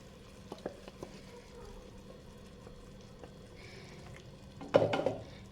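Spatula scraping and stirring chicken sukka with ground masala in a pan, sparse quiet scrapes and taps over a low sizzle, ending in a louder clattering stir.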